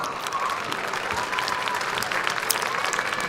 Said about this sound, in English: Let's please give her a round of applause